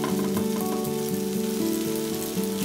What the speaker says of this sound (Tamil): பாசி பருப்பு வேக வச்சதை எடுத்து இதில் கொட்டணும்